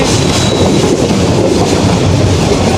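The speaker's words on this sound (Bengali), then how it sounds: "এই যে ট্রেনটা চলতে শুরু করেছে" Aboard the Jayantika Express running from Sylhet toward Sreemangal, a long train rumbles steadily, with a constant close roar and faint rhythmic wheel clatter throughout, and no voices.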